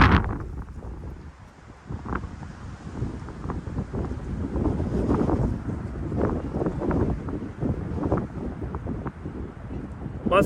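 Strong wind buffets a DJI Mavic 3 drone in flight, making a loud, gusty, rumbling rush that rises and falls without a break.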